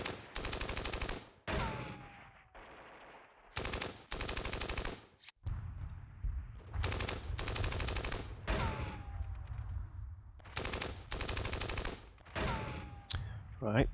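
Steel Panthers wargame machine gun fire rattles out in loud, sustained bursts between brief pauses, accompanied by a few whistling descending tones and a low rumbling background in an Iran-Iraq War 1980 battle.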